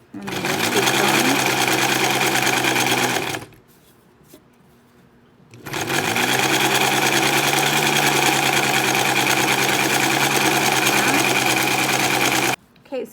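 A sewing machine stitching fabric for a scrunchie runs in two long, loud, fast bursts, separated by a short quiet pause, with a brief restart at the end.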